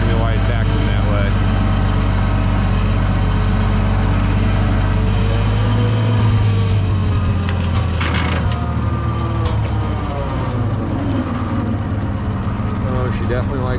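An IH 1026 tractor engine runs close by with a heavy low rumble, its speed shifting partway through as revs change, while someone talks over it.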